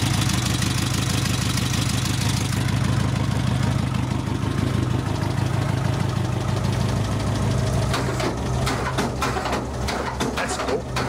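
A Mitsubishi Express van engine idles smoothly and quietly despite a rusty exhaust, a steady low rumble with faint clicking, and brief sharp noises near the end.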